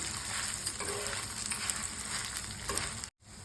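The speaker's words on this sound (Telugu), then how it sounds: "అది కొంచెం ఎర్రగా వేగిన తర్వాత కొంచెం చింతపండు వేసుకొని" Spices and tamarind fry together in a pan for idli podi, producing a continuous dense sizzle with light stirring scrapes, then a brief dropout near the end before the frying resumes.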